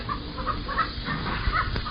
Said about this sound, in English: Chickens, they need to calm down.